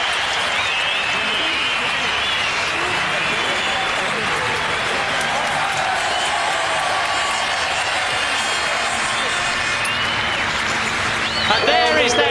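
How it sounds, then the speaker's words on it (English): A huge grandstand crowd roars and applauds for Nigel Mansell at the 1986 British Grand Prix, a dense, steady wall of cheering and clapping that fills the whole stretch, with a burst of whistles near the end. "just listen to the crowd"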